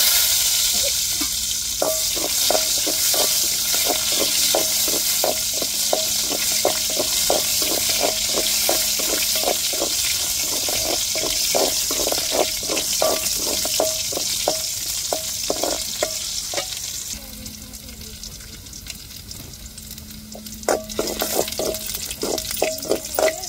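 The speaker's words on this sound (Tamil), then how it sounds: "இப்போ ஆயிலும் ஊற்றியாச்சு, கடுகும் போட்டாச்சு. இப்போ சின்ன வெங்காயம் பொறுத்தா குக் பண்ணிட்டு அதை தாளிச்சுட்டு சேர்த்துக்கிடுவோம்." Small onions sizzle loudly in hot oil with mustard seeds during tempering, a continuous close frying hiss broken by regular scraping taps of a stirring spoon against the pan.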